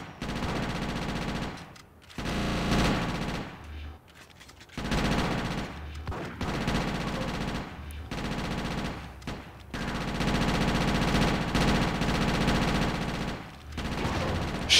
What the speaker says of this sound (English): I know there's a gunfight right now